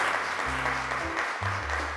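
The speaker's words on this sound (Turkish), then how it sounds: "Alperen'i alkışlarla mikrofona çağırıyorum." Studio audience applause as a young child is called up to the microphone on a Turkish children's talk show: a short burst of steady clapping, with low background tones running underneath.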